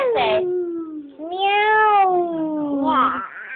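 A person's voice imitates a cat, drawing out two or three high, sliding meows one after another, close and clear with no other sound around them.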